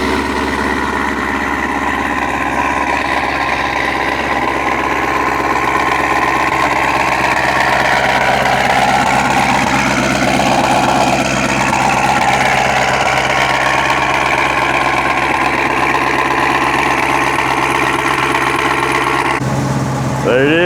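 Cadillac CTS-V engine idling right after being started, a steady loud mid-toned rumble with faint vibration running continuously, people talking over it, then a short cut at the end.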